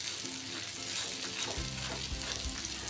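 Surmai fish steaks fry over low heat in a pan, giving a soft, even hiss of oil with a faint low bubbling that swells slightly partway through, no talking.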